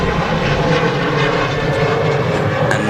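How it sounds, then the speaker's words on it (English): A Turkish Airlines Boeing 737 MAX 9 on final approach to touch down at Manchester Airport, a loud, close, steady roar of jet engines filling the whole stretch with no break. "Here is the Turkish Max about to touch down."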